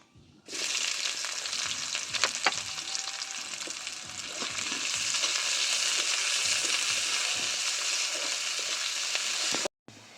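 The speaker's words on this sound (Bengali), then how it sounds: "দিয়ে দেবো কেটে রাখা পেঁয়াজ।" Chopped onion dropped into hot mustard oil already holding dried red chilli and a little sugar, bursting into a loud, steady, close sizzle that keeps going for several seconds, then cuts off sharply, with no talk.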